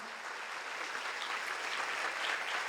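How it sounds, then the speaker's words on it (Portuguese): A church congregation applauds during a worship service, a dense, even wash of many hands clapping, fairly faint and distant, sustained throughout with no voices standing out. "Aplauda o Senhor Jesus, meu irmão."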